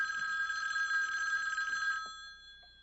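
A telephone bell rings loudly and continuously in an indoor drama scene, then cuts off and leaves near silence. No one speaks.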